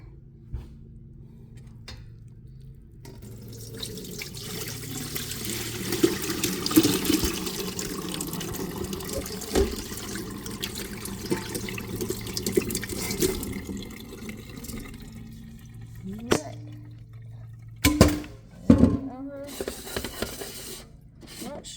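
Freshly picked blackberries tipped into a kitchen strainer with rinse water pouring and splashing through, a fairly quiet stream that swells in the middle and ends in a few sharper sloshes and clatters.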